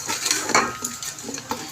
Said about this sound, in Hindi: ये तमाम चीज़ें मैं इसमें ऐड कर दूंगी और इनको हम अच्छे तरीके से इसमें भूनेंगे।